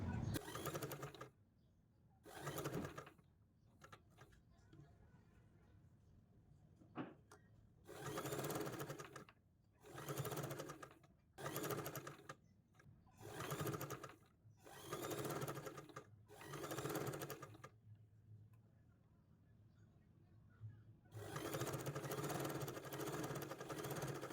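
A sewing machine stitches invisible piping onto garment lining in repeated short bursts with pauses between them, then runs longer at the end, close and clear.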